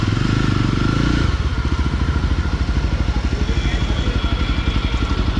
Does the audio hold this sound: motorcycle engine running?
yes